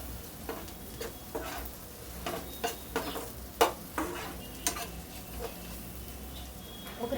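Okra (ladies finger) fries in a pan with a constant soft sizzle, punctuated by repeated scraping stir strokes of a spatula at an uneven pace.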